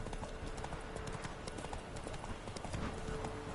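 Horse hooves galloping in a video game, a fast steady clip-clop rhythm running continuously and fairly close, with no talk over it.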